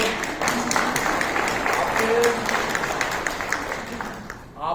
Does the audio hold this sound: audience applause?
yes